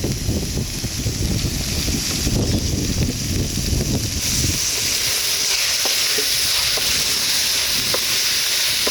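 Washed prawns tossed into cooked masala in a pan over a village kitchen fire, frying with a loud steady sizzle and stirring scrapes, the sizzle continuous and close throughout.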